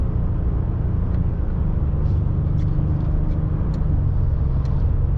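A 2021 Ford F-150 XLT with the 3.5L EcoBoost V6 drives in sport mode, heard from inside the cab as a steady, loud engine and road rumble without clear surges, with no one speaking.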